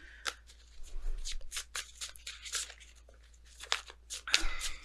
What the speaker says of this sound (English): If I could get the shuffling part down.